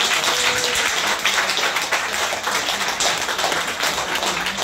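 A seated audience claps, a steady wash of many hands lasting several seconds at an even moderate level, without voices.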